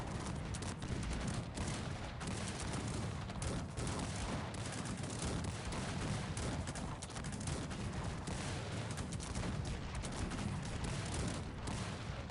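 Continuous, dense gunfire from a Cossacks 3 battle, rapid overlapping shots and bursts filling the whole stretch at a steady, loud level.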